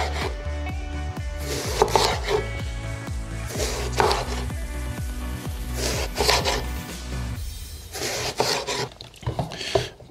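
A knife slices eggplant into half-centimetre rounds for a ratatouille, producing a steady run of close, crisp cuts that knock against a board in a quick, even rhythm.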